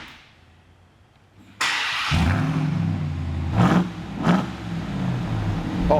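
Ram TRX pickup truck engine fired up with a sudden loud roar, then held at a throaty rumble with two sharp revs climbing and falling, heard close and alone.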